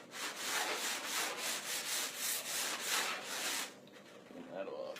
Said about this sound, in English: So just clean off the edge with a sanding block.